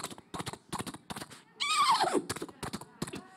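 A voice imitates a horse neighing: a loud, falling whinny cry in the middle, framed by short bursts of nearby talk and laughter before and after.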